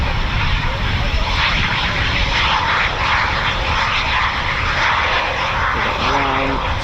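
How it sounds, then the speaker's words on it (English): Eurofighter Typhoon FGR4 departing an RAF station, a steady loud roar of aircraft engine noise sustained throughout, close and continuous with no break. "we've got another flight departing very shortly"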